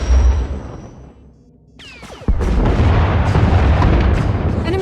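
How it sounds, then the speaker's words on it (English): Heavy booming blasts and a steady roar of turbolaser and missile fire from a Thranta-class warship in a Star Wars space battle game, loud and sustained after a brief lull, with a sharp strike near the middle. "Enemy is firing. Turbo lasers, missiles, and what looks like transport pods."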